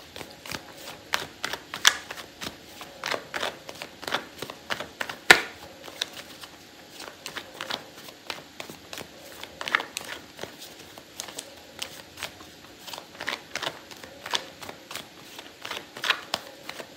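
A tarot card deck being shuffled, with rapid irregular riffles and taps of cards running steadily throughout, close and fairly quiet, with no talking.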